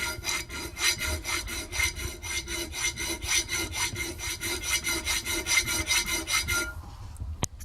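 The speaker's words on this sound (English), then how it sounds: "So you've got this triangle file, you're placing it and you're leaning it that way." A triangle file cuts a notch into the spine of a handmade chef's knife, rasping in quick, even back-and-forth strokes at close range before stopping with a couple of light taps.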